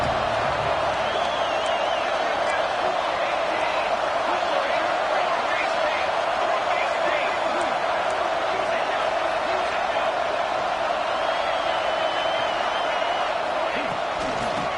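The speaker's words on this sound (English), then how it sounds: "the crowd coming to life here, trying to help this defense down in the red zone" Football stadium crowd roaring steadily during a Nebraska versus Miami college game as the defense holds in the red zone, a dense continuous wash of cheering heard from a distance under a commentator's talk.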